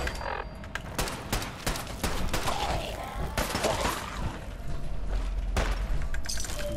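Fallout 4 gunfire crackles in a dense, chaotic barrage of rapid shots and impacts with some shattering hits, continuous and loud across the whole span, mixed with game ambience.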